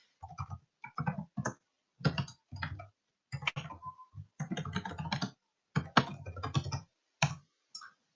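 Computer keyboard typing in short irregular bursts of close, crisp key clicks separated by brief pauses, with nobody speaking.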